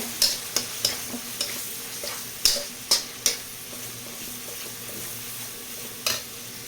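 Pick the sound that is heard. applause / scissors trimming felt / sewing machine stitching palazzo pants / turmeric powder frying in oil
turmeric powder frying in oil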